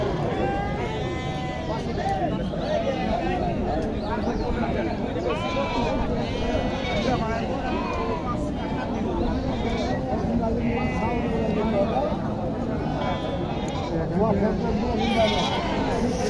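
Goats bleat repeatedly amid a busy crowd of voices and chatter at a goat and sheep market in Naogaon, Bangladesh, the animals close by and calling throughout.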